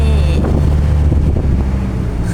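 Loud, constant wind buffets the microphone while riding in an open tuk-tuk on the way to a market, a rushing roar with low rumble from the moving vehicle underneath.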